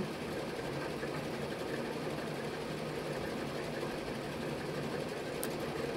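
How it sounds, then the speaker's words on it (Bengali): Motorcycles cross a broken bridge, giving a continuous, moderately loud engine drone with an even, buzzing texture and no voices. "দু একটা বাইক আসছে, দেখেন দু একটা যেছে"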